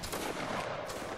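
Musket volley fired by Waterloo battle reenactors, a dense burst of overlapping gunfire crackling together loudly for about a second outdoors.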